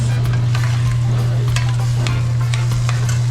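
Saltfish cooking in a pan for ackee and saltfish makes a steady close sizzle with light rhythmic scraping of a utensil, and a strong constant low hum underneath, with no voices.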